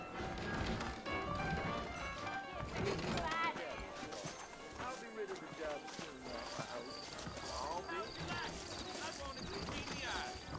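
Horse hooves clip-clop in Red Dead Redemption, steady rhythmic footfalls of saddled horses mixed with game sounds and an occasional whinny, while characters talk over them.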